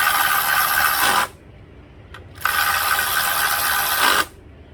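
A ratchet tightens 10mm bolts on the valve cover of a 2012 Nissan Altima, producing two long, loud, rapid runs of clicking, close up, separated by a brief pause with a single click.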